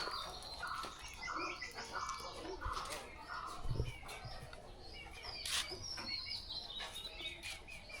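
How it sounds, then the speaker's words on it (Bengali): Domestic pigeons cooing and calling around a rural Bangladeshi homestead where chickens are also kept, with soft bird chirps scattered through a steady, moderately quiet background and no talking. "এই হলো আমাদের কবুতর"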